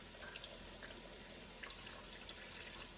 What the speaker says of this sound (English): we're going to add a cup of cold water to these.